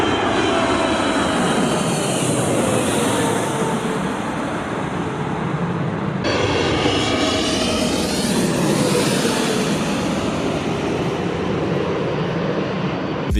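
Planes flying overhead through thick fog, a steady loud jet engine roar that swells and fades as aircraft pass, a second pass beginning midway, with no talking.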